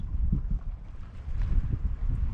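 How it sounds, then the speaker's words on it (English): Sudden gust of wind on the bank during a pike deadbaiting fishing trip buffets the microphone in a steady low rumble with uneven surges, close and fairly loud. "that wind's just getting up. Yeah, it's just a sudden gust, isn't it?"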